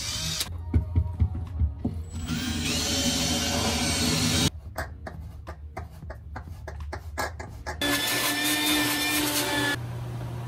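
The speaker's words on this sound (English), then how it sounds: "I'm just going to drill into the core of it here" A power drill whirs in loud, sustained bursts on a 1988 Hatteras 65C boat, stopping and restarting several times, with a brief clatter of handling between runs.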